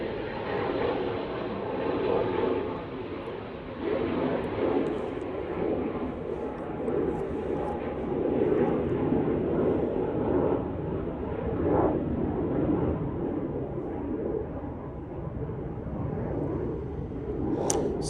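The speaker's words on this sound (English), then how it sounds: "there's a BizJet going off" A business jet takes off from Manchester Airport, its engines a steady broadband roar that holds at moderate level throughout, fairly distant, with brief talk over it.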